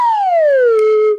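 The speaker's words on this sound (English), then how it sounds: "The first instrument I'm going to use is the slide flute" A plastic slide flute plays one steady tone that glides smoothly downward in pitch, close and clear, lasting about a second.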